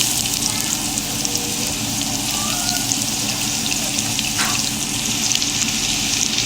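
Garlic and ginger sizzle in hot oil after cumin seeds, cooking a soybean chili with soy chunks; a steady, dense frying hiss runs throughout with no talk.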